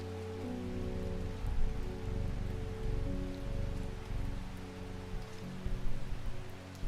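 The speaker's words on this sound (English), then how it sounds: "Can you guys hear, by the way, the music, the rain" Steady rain patters on surfaces under a soft, sustained musical drone, with no talking, in the video game Strange Horticulture.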